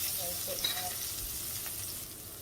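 Marinated beef chunks for a homemade stew browning in a hot pan with garlic, giving a steady close sizzle with a few soft stirring scrapes and no talking.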